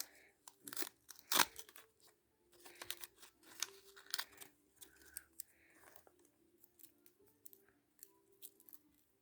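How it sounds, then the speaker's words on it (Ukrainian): Crinkling, tearing rustles of a small paper packet being opened up close, in irregular bursts with short pauses between. "Відкриваємо пакетик."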